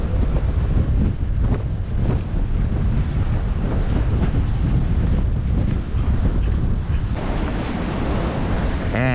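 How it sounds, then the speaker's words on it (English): Strong wind buffets a fishing pier at night, roaring steadily and loud throughout, with choppy waves and surf churning below. "Man, it's getting windy"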